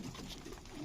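Domestic pigeons in a breeding loft coo close by, soft low throaty calls running continuously through the short moment with no talking.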